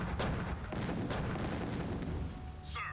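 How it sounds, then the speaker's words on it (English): Gunfire in Command & Conquer: Tiberian Sun, heavy continuous booming rumble of shots, loud and dense, with a brief whooshing sweep at the end. "Stop shooting at the sandbags!"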